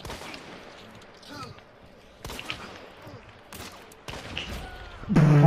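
Several gunshots ring out in a first-person shooter match, sharp bursts spaced irregularly over game noise, with a louder crackling blast at the end.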